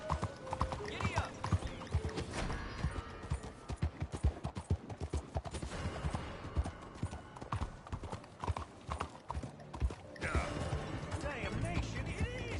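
Horse hooves clip-clopping at a steady trotting rhythm in the video game Red Dead Redemption 2, continuous and close over a background of game ambience, with a few louder thuds and faint talk.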